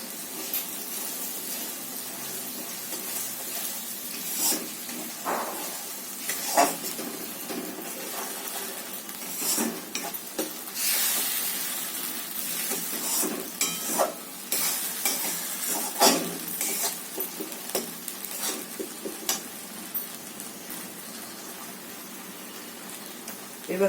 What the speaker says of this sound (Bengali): এটাকে একটু নাড়িয়ে নিই।